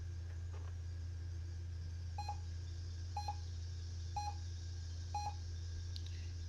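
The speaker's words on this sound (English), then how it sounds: "And we get a couple of beeps there." An HP DV6000 laptop with a replaced motherboard emits four short, evenly spaced electronic error beeps about a second apart on power-up, fairly faint over a steady low machine hum with no talking.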